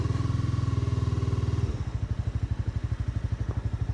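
A Honda CBR300r motorcycle engine thrums in a rapid, even pulse, shifting to a slightly lower, choppier idle partway through, close and fairly quiet with no voices.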